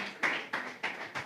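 A church congregation claps hands in praise during a Telugu sermon, sounding as four steady, evenly spaced claps at a brisk rhythm, clear and alone without talk.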